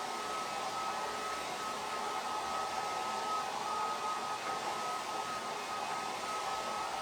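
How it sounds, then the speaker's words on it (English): A hair dryer set on low blows steadily with a continuous, even whooshing hum and a faint whine, close by and uninterrupted throughout, with no talking. "this makes it extremely sticky when you do it this way and dry it with a hair dryer."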